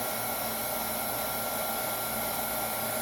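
A heat tool blows steadily to dry a card coated with matte medium, a constant loud broadband whoosh with no talking.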